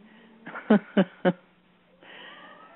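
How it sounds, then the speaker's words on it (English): A house cat gives three short, close meows in a quick row, with a quiet room hum before and after. "We have a cat that loves to talk."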